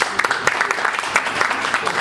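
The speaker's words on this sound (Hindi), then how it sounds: "पृथ्वी उपराय जी के जोरदार तालियां।" Audience applause breaks out at a music launch event for the film Love Shots, a brief dense patter of clapping that stays steady over two seconds, with voices mixed in beneath it.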